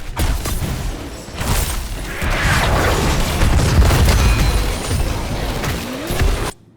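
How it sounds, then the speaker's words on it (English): ETC's stage dive ability crashing into a back line in Heroes of the Storm, a loud sustained impact-heavy rumble of booms and crashing effects lasting several seconds before cutting off abruptly. "There's the stage dive by ETC, which was silly."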